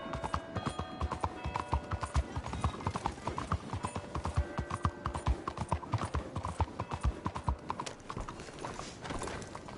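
Galloping horse hooves in Red Dead Redemption 2 pound out a fast, loud, rhythmic drumming up close, with light tack rattles mixed in and no talking.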